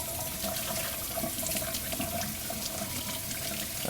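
Cold tap water runs into a sink, rinsing cooked orzo: a continuous splashing hiss with gurgling, steady and fairly close for the whole stretch, no talking.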